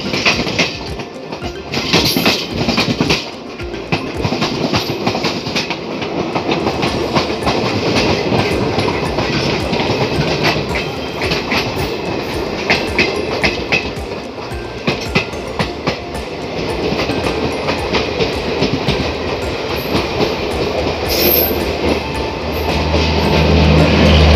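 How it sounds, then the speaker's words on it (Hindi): A passenger train departs Bareilly Junction, rolling along steadily with a continuous rumble and rhythmic clickety-clack of wheels on the rails, loud and close, with no talking. "कुछ देर बरेली जंक्शन पर रुकने के बाद हमारी ट्रेन बरेली जंक्शन से डिपार्ट कर रही है"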